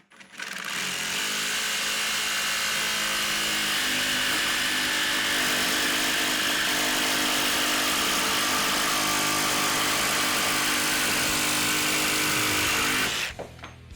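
A RIDGID 18V OCTANE cordless jigsaw at full speed cuts through 1/8-inch steel. Its loud, continuous buzzing grind lasts about thirteen seconds and then stops abruptly, close up, with no talk.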